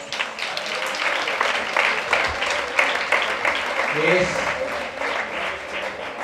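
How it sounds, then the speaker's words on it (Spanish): An audience at a cooking show breaks into sustained applause, dense clapping that carries on steadily, with a voice speaking briefly in Spanish partway through. "damos la bienvenida y un aplauso"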